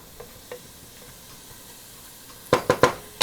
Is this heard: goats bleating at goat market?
no